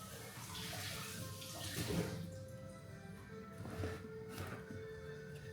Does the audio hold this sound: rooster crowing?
no